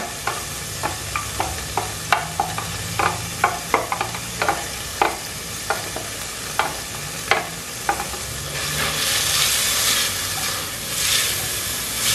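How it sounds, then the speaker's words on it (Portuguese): Onion is stirred into a pan holding leftover meat residue, with a series of sharp scraping stirs over a low sizzle, then the frying hiss swells and fills the last few seconds; no talking. "Vou colocar nossa cebola nesse fundinho de panela."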